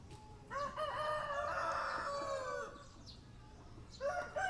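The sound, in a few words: chicken crowing and clucking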